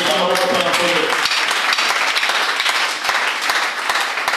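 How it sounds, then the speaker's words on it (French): Church congregation clapping and cheering for the Lord during a sermon, loud sustained applause filling the room with sharp individual claps audible, a voice heard briefly at the start. "Est-ce qu'on peut acclamer pour le Seigneur?"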